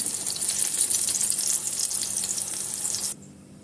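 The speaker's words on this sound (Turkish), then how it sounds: "tavama yenilerini ilave yaparak bu şekilde tamamını kızartıyorum" Sliced courgette sizzling and crackling in hot oil in a pan, close and continuous, cutting off abruptly near the end.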